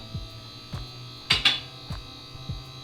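A hydraulic car lift raising after its controller button is pressed gives a steady electric motor hum with periodic low thumps and two brighter mechanical clunks midway, heard close with no talking.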